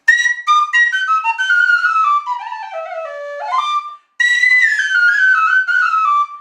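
A bright, loud olive wood whistle, a Chieftain Custom prototype, plays a lively melody with ornamented runs, stopping briefly for a breath before continuing the tune.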